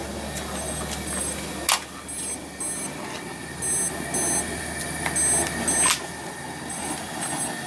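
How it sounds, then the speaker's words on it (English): A remote temperature sensor alarm on a distillation rig beeps in rapid repeated bursts of high, evenly spaced tones, steady and fairly close over a low hum, with a couple of sharp clicks between. "the remote temperature sensor has started beeping"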